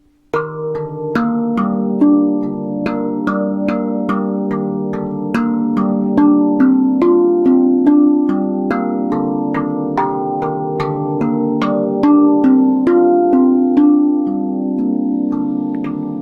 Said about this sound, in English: we'll be striking the center of the note in the same way as the ding to achieve a rich sound